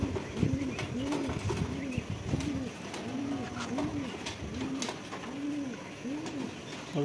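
Pigeons at a pigeon sale coo repeatedly in a rolling, rhythmic series close by, with faint background bustle and no clear talk.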